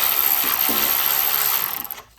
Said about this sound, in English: I have a deep socket here.